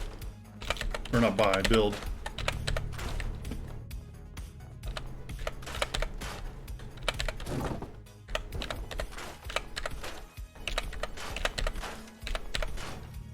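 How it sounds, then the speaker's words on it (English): Rapid clicking keystrokes on a computer keyboard during Fallout 4 PC gameplay, bursts of close, crisp taps with short pauses, while someone talks over them now and then. "Keyboard makes this a little awkward. It doesn't always register my key presses."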